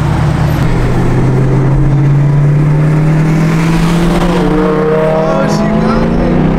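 A learner driver works a manual-clutch car, its engine note climbing steadily through the gears as it pulls away, loud and close, with people talking and cheering over it.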